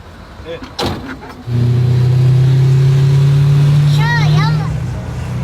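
A bulletproof Russian army car's engine revs up sharply after a few brief knocks, then holds a loud, close, steady drone with a high whine riding on top, while people talk over it.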